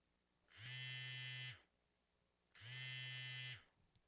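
A phone buzzes in the Chaos;Child visual novel game, two steady electronic buzzes of about a second each separated by a short pause, fairly clean and alone with no talk.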